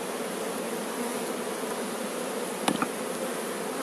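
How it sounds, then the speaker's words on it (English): Honey bees crowd an open hive during a spring check, giving a steady, close buzzing drone, with a couple of brief clicks or knocks near the end. "And lots of bees there."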